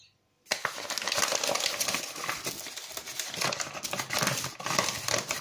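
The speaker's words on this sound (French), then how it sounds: "Alors maintenant, je vais mettre la farine 3 pots de farine" Flour for a yogurt apple cake tipped into the batter from a pot, a dense rustling, crinkly pour that begins abruptly after a brief silence and keeps going with uneven bursts, close and fairly loud.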